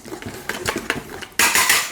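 Instant yeast being mixed into all-purpose flour in a bowl for crusty artisan bread dough, a utensil scraping and tapping against the bowl in quick uneven strokes, close up and ending in a louder burst of clatter.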